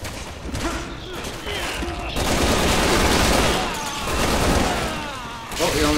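Dense, loud bursts of gunfire at zombies in Resident Evil 6, with rapid shots and rumbling blasts that swell and ease over several seconds.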